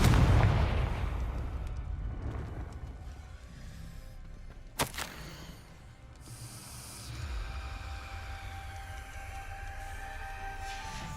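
A Confringo fire-blast spell in Hogwarts Legacy bursts with a sharp crack midway, followed by a rumbling, rushing roar and a trailing hiss, after a loud whooshing start; no talking.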